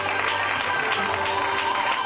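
Supporters applaud at an election night celebration in a hotel function room, a dense continuous patter of clapping with crowd murmur throughout, loud and close.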